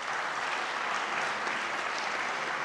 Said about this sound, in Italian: meritano veramente il nostro grazie e il nostro applauso